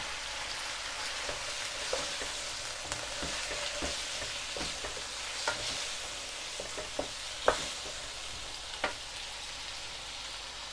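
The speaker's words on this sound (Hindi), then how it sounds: "इसको 1-2 मिनट भूनकर अब हम इसमें टमाटर डाल देंगे।" Black pepper chicken karahi fries in a pan as a soft, steady sizzle, broken by scattered sharp taps and scrapes of a stirring utensil.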